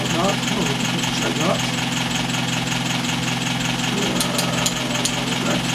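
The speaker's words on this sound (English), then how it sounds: "Now watch what happens when the engine's ticking over at about 900 revs" A four-cylinder MG TF engine ticks over at roughly 900 rpm, a steady, continuous idle hum with a low rumble and faint mechanical ticking, recorded close up throughout.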